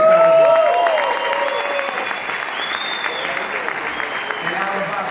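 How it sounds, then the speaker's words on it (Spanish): An audience claps steadily, loudest at the start and continuing at a sustained level, with some background voices mixed in. "dar un aplauso al SBP Efraín Tejada, por favor."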